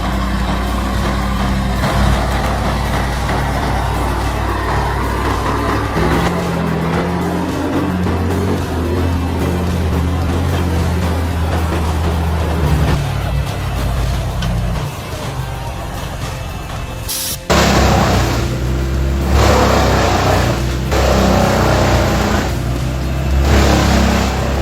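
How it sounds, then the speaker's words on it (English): A heavy-duty log truck grinds across a waterlogged bridge, its engine droning loud and close with shifting revs, then cutting abruptly to a harsher, brighter mechanical roar near the end. "This heavy-duty truck pulls the logs across a majestic waterlogged bridge with such power and grandeur"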